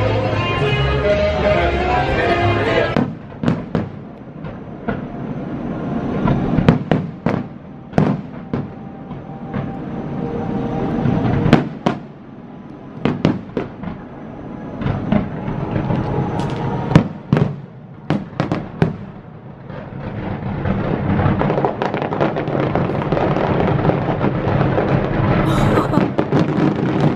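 New Year's Eve fireworks at Disney World, a long run of loud bursts and crackling pops in quick uneven bursts over a crowd murmur, with a steady din between the explosions.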